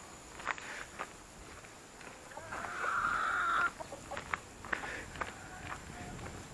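Chickens cluck near a village entrance in Sisli-Oba, one bird giving a longer drawn-out cackle in the middle, mixed with footsteps on the ground and a little background talk.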